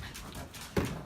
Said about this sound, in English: here come the puppies